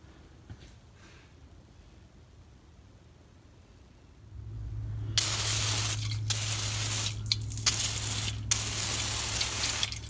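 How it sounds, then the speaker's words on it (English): Brake cleaner sprayed from an aerosol can onto the leaking rear axle and rear end cover of a 1966 Mustang, several loud hissing bursts with short pauses over a low steady hum, no talk. "Spraying some brake cleaner,"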